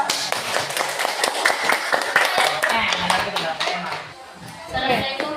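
Classroom students clap together in a quick, scattered burst of applause that fills most of the moment, then tapers off as a voice speaks near the end.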